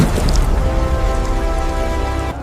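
Rain falls steadily and densely, a close, loud patter of drops across the whole stretch with no voices. A low rumble sits under the hiss, and the sound cuts off abruptly at the end.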